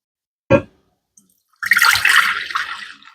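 Kombucha poured into bottles for a second fermentation: a single knock comes first, then after a short pause a steady splashing pour runs for over a second and slowly tapers off, close and fairly loud with no voices.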